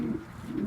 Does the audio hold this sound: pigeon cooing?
yes